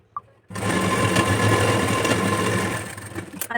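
A sewing machine runs steadily for about three seconds while stitching a folded strip on a princess-cut blouse, with a faint click before it starts and a brief tap as it stops.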